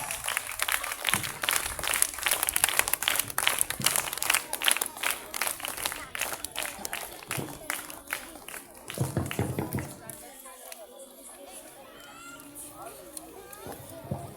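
Students and audience at a school quiz competition prize-giving clap in a dense, lively round that gradually thins out, with children's voices and chatter mixed throughout and continuing after the clapping fades.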